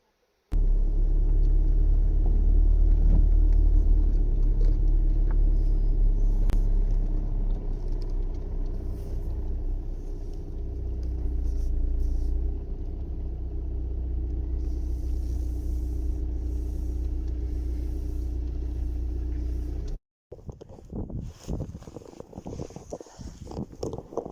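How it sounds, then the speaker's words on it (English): A car engine rumbles steadily at close range while the car is turned around, holding a deep, even drone for about twenty seconds before it cuts off and gives way to rougher, uneven noise. "So if I turn my car round"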